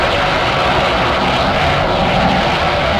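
A steady, loud, airplane-like engine roar, a broad continuous rumble with no breaks and no voices.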